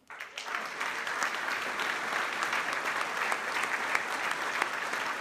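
Applause swells quickly and holds steady as a banquet audience claps for an award winner at a collegiate flying competition, dense and continuous with a few sharper individual claps.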